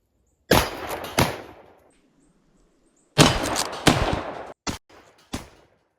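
A lever action rifle fires at targets outdoors: two loud shots close together, a pause, then a second burst of shots, including a couple of short cracks, each followed by a decaying echo.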